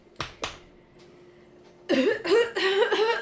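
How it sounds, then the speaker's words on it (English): Two quick, sharp coughs up close, followed after a short pause by someone talking. "Why are you coughing?"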